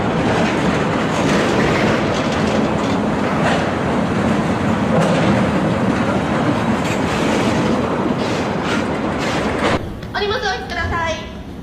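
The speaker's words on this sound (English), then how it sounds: "Seven airplane fuselages rolling through Renton on rail looks unreal" A long freight train carries seven Boeing airplane fuselages on rail through Renton, its cars rumbling and clacking loudly and steadily past nearby before the noise drops away near the end.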